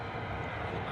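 A US Air Force C-17 transport flying near RAF Lakenheath, heard as a steady, fairly faint broadband jet engine roar that holds constant for the full second without any voices.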